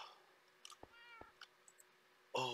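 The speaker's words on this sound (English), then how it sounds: "Okay, now whose cat is that?" A cat meows repeatedly in a Minecraft-style survival game, a few short, clear calls spaced across the moment and ending in a louder, longer meow.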